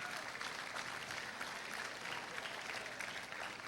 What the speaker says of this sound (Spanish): Un aplauso a Dios por José y por Leven otra vez, ¿ok?